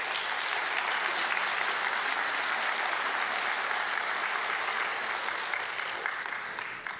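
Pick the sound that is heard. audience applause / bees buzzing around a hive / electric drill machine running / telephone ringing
audience applause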